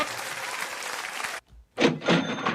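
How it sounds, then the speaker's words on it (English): An audience claps for a speaker at a goal-setting seminar: a burst of applause, a brief near-silence, then a second wave of clapping, moderately loud and close. "Let's give my man a round of applause."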